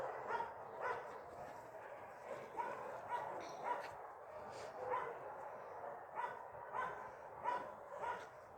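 A young husky-mix dog barks repeatedly in short, evenly spaced yips, fairly close, over a quiet indoor background at an animal shelter.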